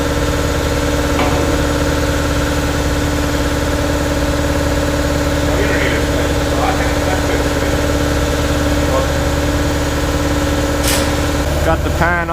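An air compressor runs steadily while charging up in a shop where a junkyard 6.0 LQ4 LS engine is being torn down, a constant droning hum filling the whole stretch with faint clinks of work.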